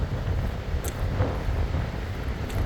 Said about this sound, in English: sorry if it's really windy.